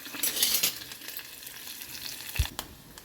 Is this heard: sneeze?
no